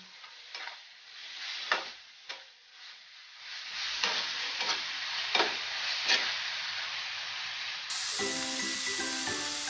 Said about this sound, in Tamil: வெங்காயம் வெந்துட்டுங்க நம்ம தக்காளியை போட்டுடலாம் இஞ்சி பூண்டு பேஸ்ட்டை போட்டுடலாங்க